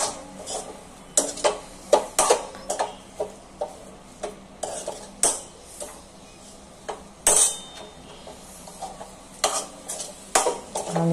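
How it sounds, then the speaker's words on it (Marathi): Mashed potato bhaji (dry potato sabzi) stirred with a spoon in a pan: a steady series of soft scrapes and metallic clinks repeating roughly every second, close and quiet, with no voices. "मॅश करून झाल्याच्या नंतर पूर्ण भाजी अशी चमच्याने हलवून घ्यायची।"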